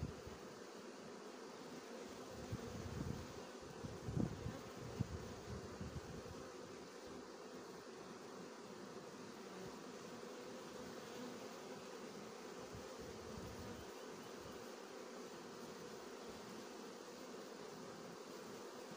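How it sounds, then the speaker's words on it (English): Honey bees buzz in a steady, dense drone throughout, with a louder swell of nearby wingbeats early on against constant outdoor background noise; no one speaks. "I don't know if they're my bees or the neighbor's bees"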